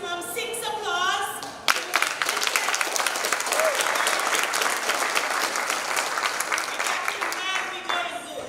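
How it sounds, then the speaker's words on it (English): Loud, dense applause from a crowd at Mary's 90th birthday celebration, sustained for several seconds between short stretches of speech at the start and end. "So let's give a hero maximum 6 applause."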